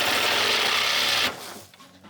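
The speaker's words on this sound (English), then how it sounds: "So we're going to cut the dryer thing off." A power tool cuts off the AC dryer on a Mercedes E500, giving a loud, dense buzzing whir that runs for just over a second and then stops abruptly, leaving faint rattling behind.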